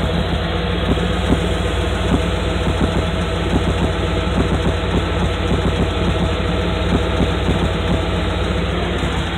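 A truck engine idles steadily under the open hood, its constant loud drone carrying a fast, even ticking from a lifter tick, with no talk.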